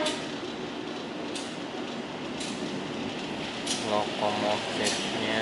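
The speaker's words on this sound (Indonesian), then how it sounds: "Lokomotifnya" A CC204 locomotive hauls the Kutojaya Selatan passenger train on rails near Gandrungmangun and Sidareja. It gives a steady rolling rumble with rhythmic wheel clicks over rail joints, and voices chatter nearby inside the carriage.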